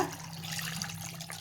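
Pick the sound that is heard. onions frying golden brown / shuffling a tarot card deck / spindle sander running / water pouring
water pouring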